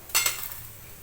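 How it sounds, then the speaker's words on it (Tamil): Chana dal being roasted in a pan for chutney gives a quick scrape and rattle of lentils, two brief bright bursts, then a soft continuous sizzle that fades. "இப்போ அந்த எடுத்து வச்ச கடலைப்பருப்பையும் அதில் போட்டு வறுத்துக்கிடுவோம்"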